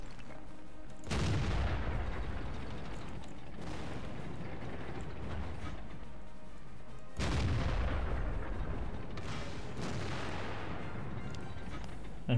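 Two heavy tank cannon shots boom out in the World of Tanks video game, each a sudden loud blast trailing into a long rumbling decay, spaced about six seconds apart.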